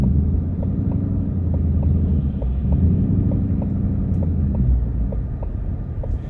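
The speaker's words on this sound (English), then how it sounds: "that revving that we're getting there, that's the Rev Match that's available in the Mustang" A 2020 Ford Mustang GT Performance Pack 2 V8 rumbles in a deep, steady low idle-like drone heard from inside the car, with a faint regular ticking over it and no talk.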